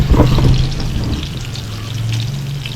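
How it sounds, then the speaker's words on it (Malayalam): Prawns frying in hot oil in a home kitchen give a steady, close crackling sizzle with a brief louder burst at the start, no voices. "എണ്ണ ഇട്ട് തെറുക്കി വിടും ഫ്രണ്ട്സ് അങ്ങനെ ലച്ചു ചെമ്മീൻ ഫ്രൈ റെഡി ആക്കുന്നുണ്ട്"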